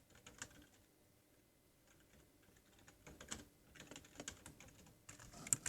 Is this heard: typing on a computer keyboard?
yes